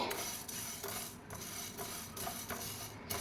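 Coriander seeds dry roast on low heat in an iron pan, giving a steady, dense rattle with light metallic clinks from stirring, close and unbroken, with no voices.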